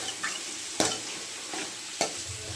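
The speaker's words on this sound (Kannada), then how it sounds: "ಫ್ರೈ ಮಾಡೋಕ್ಕೆ ಫ್ರೈ ಮಾಡ್ತಾಯಿದ್ದೀನಿ." Chicken pieces frying in oil in a pan, a steady soft sizzle broken by three or four sharp stirring scrapes spaced about a second apart, close by and with no talk.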